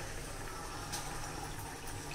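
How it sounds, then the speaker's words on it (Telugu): Water runs steadily while dried fish is rinsed before cooking, a continuous close splashing wash with no voices. "ముందుగా వేయించి పెట్టుకునేది చేపల్ని వాష్ చేసుకోవాలి నీళ్ళతో"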